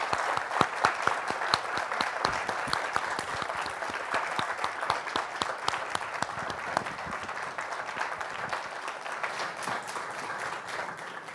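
An audience at a panel discussion on the Bill of Rights applauds a panel of judges, with dense, sustained clapping that holds steady and then gradually thins out.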